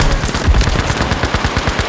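Rapid automatic gunfire in the Battlefield V shooter, a dense loud burst of closely spaced shots rattling nonstop for the full two seconds, with no talk over it.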